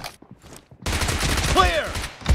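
Dense burst of rapid gunfire from the video game PUBG in an 8 vs 8 arena match, loud and sustained after a quiet start, with a voice speaking briefly at the beginning.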